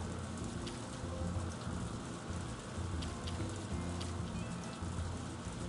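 Steady, dense video-game rainfall pattering on surfaces, continuous and fairly loud throughout, with no voices.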